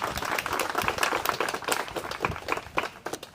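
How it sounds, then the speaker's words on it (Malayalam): A crowd applauds at a film pooja ceremony, with dense, continuous clapping from many hands that holds steady throughout, fairly close and lively, with no voices over it. "കൈയടി കൊടുക്കാം, നല്ല കൈയടി."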